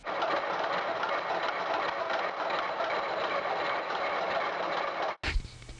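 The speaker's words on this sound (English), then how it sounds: "The rotary table is locked in position and the cutter started to rotate." Model engineering gear cutter spinning against a gear blank locked on a rotary table, a dense, steady mechanical grinding chatter that holds for several seconds before cutting off abruptly.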